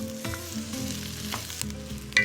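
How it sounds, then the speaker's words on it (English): Rice grains frying in a pan for a Oaxacan-style dish, a steady close sizzle with scraping stir strokes and clicks throughout, alone with no talk. "we're going to cook this until those rice grains turn from translucent to a kind of milky white"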